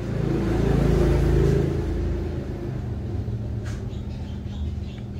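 A Yamaha RX King two-stroke motorcycle with a standard ignition and a newly fitted four-wire CDI runs nearby, a low rumbling engine note that swells briefly, then settles into a steady, slightly uneven idle.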